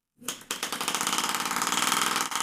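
A small engine starts up and pulses in a rapid, steady rhythm of sharp puffs, running continuously and fairly close.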